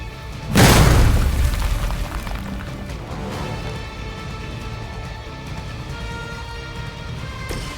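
A bomb detonates in the superhero video game Marvel's Midnight Suns: one loud, close blast that booms hard and then fades into a long rumbling tail under a steady game backdrop, with no talk.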